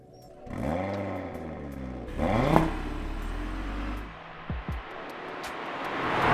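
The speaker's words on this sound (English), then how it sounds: "This 5-cylinder engine has a really distinctive note, and it's pretty loud as well" An Audi RS3 five-cylinder engine revs hard twice, its pitch sweeping up and falling back, then idles with a brief blip before building again.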